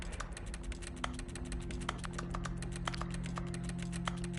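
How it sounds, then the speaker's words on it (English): Rapid typing on a computer keyboard during Stanley Parable gameplay, a fast irregular stream of crisp key clicks over a steady low game hum, close and clear with no talking. "you hear how fast I'm typing?"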